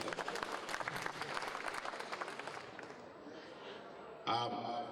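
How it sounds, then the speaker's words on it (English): Audience applause at a trade expo (APIEXPO 2018), dense clapping filling the room for several seconds before fading, with a brief burst of other sound near the end. "Please, let's put our hands together."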